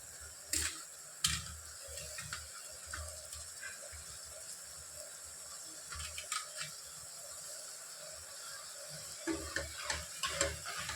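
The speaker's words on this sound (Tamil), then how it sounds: "இதெல்லாம் நல்லா வதங்கி வரட்டும்." Coriander, mint and ground masala paste sautéing for chicken biryani, a quiet sizzle with occasional light spoon scrapes and taps against the pan, close but faint and without talking.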